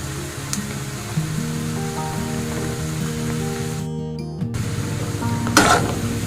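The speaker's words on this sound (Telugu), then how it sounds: "ఒక టూ మినిట్స్ మనం సిమ్లో ఉంచి ఇట్లాగా ఫ్రై చేయాలి ఇంత ఆయిల్లోనే ఉంచాలి" Chicken fries in oil on low heat with a continuous soft sizzle and crackle throughout, a brief interruption partway, and a closer burst of spattering near the end, with a steady tonal hum underneath.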